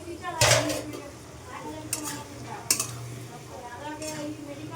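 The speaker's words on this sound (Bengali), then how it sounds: "এবার ঢাকাটা খুলে দেখব।" A lid comes off a pot of Bengali pui shak ghonto with hilsa fish head, bringing metallic clanks and scrapes of pot and utensils, a few sharp clinks standing out over a soft sizzling bed.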